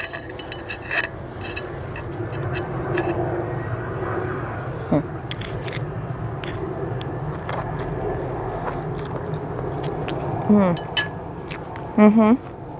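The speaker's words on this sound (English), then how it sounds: "let's see what it tastes like. So let's see if I can also eat this without getting it all over my shirt" Cutlery clinks and scrapes against a plate of pasta puttanesca, with light chewing and occasional sharper clinks, close and moderately loud over a steady room background; a voice comes in briefly near the end.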